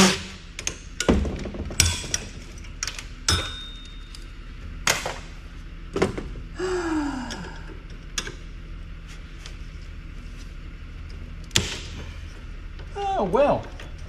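A fan is pulled out of a nasty old computer being scrapped, with sharp metallic clicks and clunks scattered at intervals, a few scraping squeaks, and a faint background hum.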